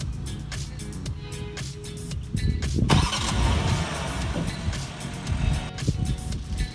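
A BMW engine starting by key fob remote start, with clicks followed by a sharp crank and a catch around the three-second mark, settling into a steady idle rumble.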